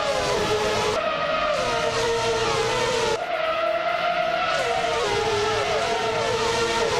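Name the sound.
racing cars at the race start, from a video game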